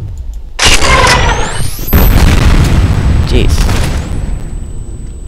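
A grenade explodes in the shooter game F.E.A.R. with a sudden loud, booming blast that rumbles on with debris and rolling echoes for several seconds; a man briefly exclaims.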